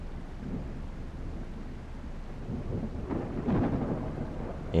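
Thunderstorm in the Professional Ship Simulator game, with steady rain hiss and low rumbling thunder that swells louder toward the end, heard alone without talk.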